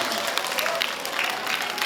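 Community rally crowd applauding together, a steady dense wash of many hands clapping at moderate distance, continuous throughout.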